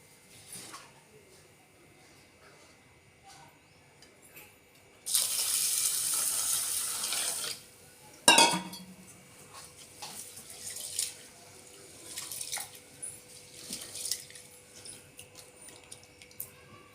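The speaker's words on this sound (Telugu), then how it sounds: "వీటిని ఇలా మంచిగా కలుపుకొని ఒక రెండు సార్లు శుభ్రంగా కడుక్కుందామండి ఈ పప్పులని" Half a cup of moong dal is washed in water in a kitchen, giving a loud gush of running and splashing water for a couple of seconds, then a sharp splash and quieter, intermittent swishing and trickling.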